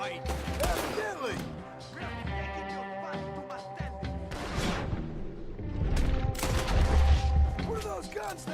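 A rapid fusillade of gunshots in the video game Red Dead Redemption 2, volleys cracking near and far amid crashes, with voices talking over parts of the exchange.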